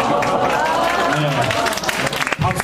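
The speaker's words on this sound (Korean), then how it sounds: "박수가 자연스럽게 나오죠." Audience applause at a public lecture during a lifelong-learning festival in Gwangmyeong, a steady wash of clapping from a crowd with voices mixed in, dipping briefly near the end.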